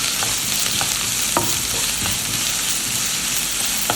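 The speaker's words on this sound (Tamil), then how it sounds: "வெங்காயத்தை ரொம்ப வதக்கணும்னு தேவையில்லை, ஜஸ்ட் ஒரு 10-15 செகண்ட் வதக்கினா போதும்" Sliced onion sautés in hot oil in a pan while making Burmese mohinga banana stem soup, giving a loud, steady crackling sizzle throughout with occasional soft stirring clicks and no talking.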